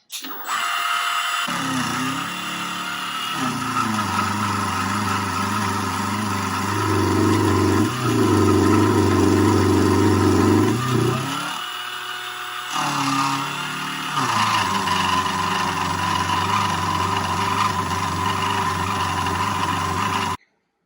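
A small Proxxon milling machine cuts a 3 mm deep pass in aluminum, its motor whining steadily with a rising, grinding cutting tone for about twenty seconds, briefly easing midway, no talk.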